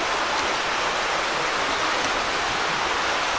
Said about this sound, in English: You can really hear the creek up here.